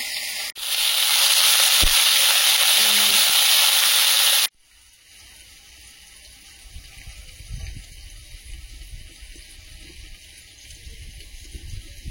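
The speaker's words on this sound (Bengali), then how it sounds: "প্রথমে উচ্ছে আলুটা ভেজে নেব।" Bitter gourd and potato frying in oil: a loud, dense sizzling hiss for about four seconds, then an abrupt cut to a much quieter, softer frying bubble with occasional low thumps.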